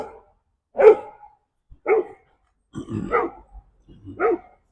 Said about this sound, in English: And the dogs are going crazy.